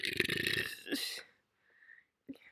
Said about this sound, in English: sorry, pizza burps